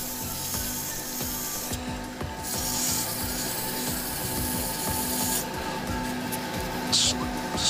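Coarse-grit sanding on a spinning wood and epoxy resin shaving brush handle gives a continuous close rubbing rasp with a few brief brighter hissing bursts.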